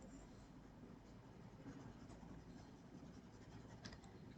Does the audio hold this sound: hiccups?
no